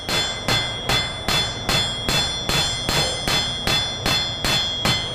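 A hammer strikes hot metal on an anvil while flattening cross peen marks from forging a leaf, landing a dozen evenly spaced ringing blows that sound loud and close, each with a bright metallic clang and no talking.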